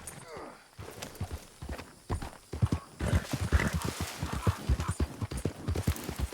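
Hooves of several horses clop and thud in Red Dead Redemption 2, a steady rapid galloping rhythm that grows busier and louder midway, with a horse whinny and a voice talking over it.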